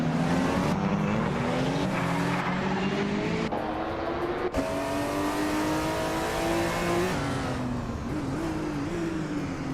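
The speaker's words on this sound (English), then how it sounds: "the race is underway at Autodromo Riccardo Paletti, and Hingle McCringleberry is dominating the" Several race cars, including a 2018 Toyota FT1 GTE, accelerate hard off the start at Autodromo Riccardo Paletti in a racing video game, loud layered engine whines rising and shifting through gears for the whole stretch with no talk.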